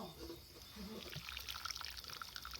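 Water pours and trickles into a pot of chicken being cooked, a faint, close liquid splashing under outdoor ambience.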